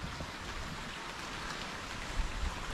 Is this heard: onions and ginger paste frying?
no